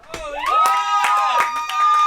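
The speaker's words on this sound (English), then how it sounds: "Round of applause, because they were all doing it behind the glass" A live studio audience gives a round of applause: a burst of close hand claps ringing over a sustained tonal voice or music, steady for about two seconds.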